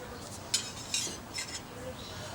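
Lamb burgers set down on a grill with a spatula: a few sharp metallic scrapes and clinks, near and moderately loud over a soft steady background.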